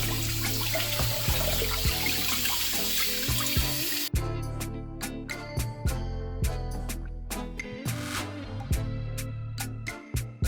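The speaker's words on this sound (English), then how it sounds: "We're gonna rinse it under cold water." Cold tap water runs steadily over a raw turkey being rinsed in a kitchen sink, a close, continuous splashing gush with intermittent sharper splatters as the bird is moved under the stream.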